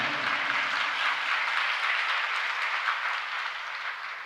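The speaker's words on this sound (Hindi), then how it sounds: "उसके लिए भी ताली बजा रहे हैं आप" An audience claps together at a Jain religious discourse, a dense, steady wash of applause that holds evenly and eases off slightly toward the end, with no voices over it.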